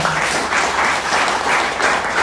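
Sustained applause from a church congregation during a Telugu sermon, loud and continuous throughout with dense clapping and no pauses.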